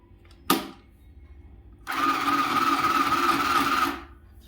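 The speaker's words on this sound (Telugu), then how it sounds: "ఇది చిన్న మిషన్ కాబట్టి కొంచెం కుట్టడానికి కొద్దిగా ఇబ్బంది అవుతుంది" Small home sewing machine stitching fabric, one sharp click followed by a steady two-second mechanical whir at close range, with no talking over it.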